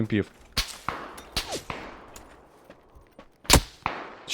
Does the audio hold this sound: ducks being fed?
no